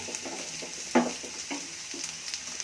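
Ginger and garlic frying in oil, a continuous close hiss and sizzle broken by quick spatula scrapes and clinks against the pan, with no talking.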